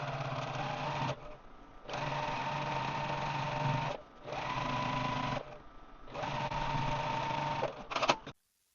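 Sewing machine stitching quilt pieces together, a steady close mechanical whir running in three long bursts with short pauses between, ending abruptly.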